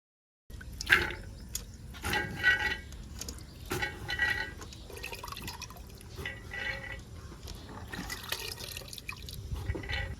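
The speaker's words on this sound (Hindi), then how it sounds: "ऐड करेंगे हम पानी" Water pours and trickles into a metal pressure cooker, gurgling and splashing in uneven bursts, fairly close and soft, with no talk.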